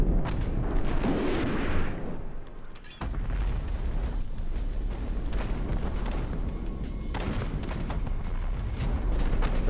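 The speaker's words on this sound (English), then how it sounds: "So this is the MLRS, and the MLRS have magnetic missiles as well" Magnetic missiles from an MLRS launcher firing in the naval combat game From The Depths, a dense run of booming launches and blasts that begins after a brief drop, loud and continuous with no voices.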